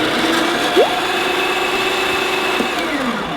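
A Breville espresso machine's built-in grinder grinding coffee beans on the double-dose setting, a loud, steady, close-up whirring drone that runs throughout with no talking.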